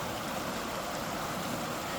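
Water rushes steadily through a river channel outdoors, a dense, continuous broadband roar with no breaks and no voices.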